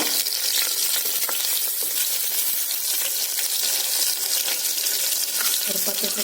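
Small shallots frying in hot oil with popping mustard seeds for a drumstick dal sambar, giving a dense, loud continuous sizzle with scattered crackles, close up and without speech.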